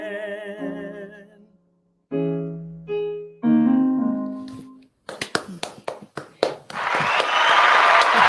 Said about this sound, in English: Let me give the man some applause.